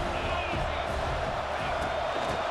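A stadium crowd roars in EA Sports College Football 26 during an Auburn game, a steady wash of distant cheering heard under a commentator's voice.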